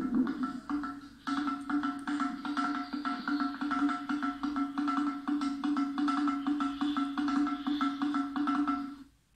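Musical granite pillars at the Vittala temple in Hampi are struck to give a drum-like sound, a steady resonant booming tone with a fast rhythmic pulse that carries without pause for about nine seconds, with no talking.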